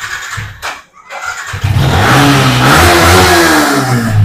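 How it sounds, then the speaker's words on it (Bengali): A 2019 Yamaha MT-15 motorcycle in black and blue starts up nearby after a brief hush, then its engine idles and revs loudly with rising, wavering pitch. "ইঞ্জিন তো পুরো একদম দাদা রকেট হয়ে আছে, রকেট রকেট"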